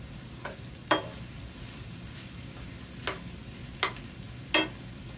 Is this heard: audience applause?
no